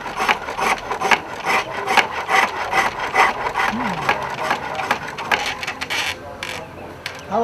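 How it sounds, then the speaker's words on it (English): Wood turning on a lathe with a hand tool held against the spinning workpiece, a steady close rasping and rubbing scrape with rhythmic pulses running throughout. "one of my lathe tools"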